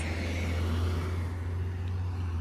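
Car slowly reversing into a parallel parking space, a steady low engine hum at idle-like revs throughout, close and continuous with no other sounds.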